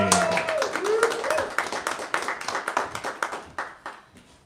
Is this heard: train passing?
no